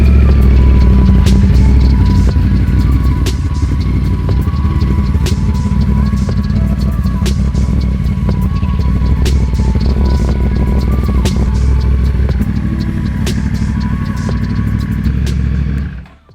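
A street motorcycle engine runs at a steady idle close by, with a continuous low throb and fine mechanical clatter holding level for about sixteen seconds before cutting off abruptly.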